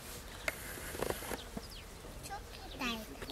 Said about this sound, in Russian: и тут пчелки летают.